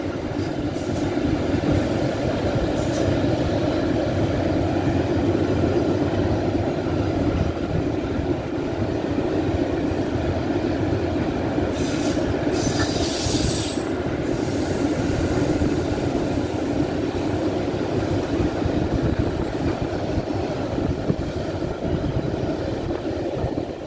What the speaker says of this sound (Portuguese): esse trem de minério. São muitos vagões